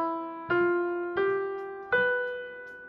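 Three struck tuned metallic notes from a five-note Pelog scale, each ringing bright and sustained before the next strike, evenly spaced and close, decaying gradually with no voices.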